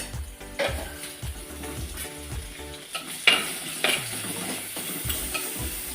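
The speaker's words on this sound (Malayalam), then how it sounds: "എണ്ണ ഒഴിച്ച് ഇനിയിപ്പോ നീരുള്ളി ഇടുന്ന ഇതാ വാടാൻ ചിക്കൻ കറി വെക്കാൻ വേണ്ടിട്ട് നീരുള്ളി ഇട്ട് ഇഞ്ചിയും വെളുത്തുള്ളിയും ഇട്ട്" Shallots, ginger and garlic frying in oil for chicken curry, with a continuous close sizzle under repeated scraping strokes of a spoon stirring in the pan.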